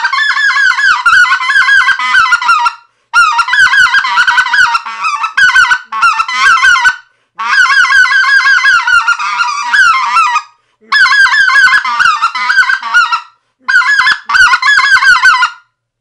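A specklebelly goose call is blown high, near the top of its range, in five loud close bursts of rapid yodeling honks separated by brief pauses.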